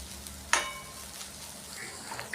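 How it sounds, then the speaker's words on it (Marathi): Okra frying uncovered in an open pan, with a steady soft sizzle and one sharp stirring scrape early on; no one speaks. "आता आपण भेंडी अशी बिना झाकण ठेवल्याची इथं शिजून घ्यायची"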